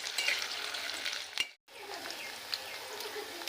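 Food half-fries in a pan until reddish, with a continuous soft crackling sizzle that drops out for a moment midway, then resumes at the same even level.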